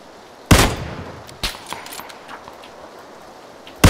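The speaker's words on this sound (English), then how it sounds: "Can these guys stop shooting us for a second?" Enemy gunfire in PUBG cracks out as a loud, sharp shot followed by a second report about a second later and fainter scattered pops, ending with another sudden blast, with no talking over it.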